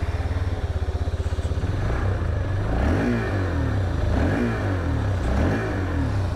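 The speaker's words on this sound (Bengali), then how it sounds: "এবার যদি আমি এবারটা অন করি এবং তোমাকে এক্সস্ট সাউন্ডটা একটু শোনাই" A Hero Xtreme 160R 4V motorcycle engine runs close by, its exhaust throbbing at idle and then blipped through several revs that rise and fall steadily across the whole stretch, with no talk over it.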